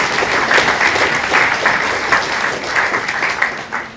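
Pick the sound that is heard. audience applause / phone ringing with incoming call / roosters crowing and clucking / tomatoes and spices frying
audience applause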